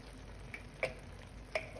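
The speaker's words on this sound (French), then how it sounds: "Donc maintenant, les œufs commencent à cuire" Eggs frying in a pan give a steady, faint sizzle, with a few sharp ticks and pops about a second apart and no voices.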